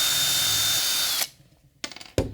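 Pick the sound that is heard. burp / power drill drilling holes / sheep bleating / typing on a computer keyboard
power drill drilling holes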